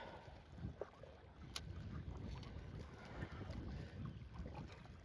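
Wind gusting over open water while fishing from a boat, a steady loud rush with low buffeting against the microphone, lasting throughout with no speech.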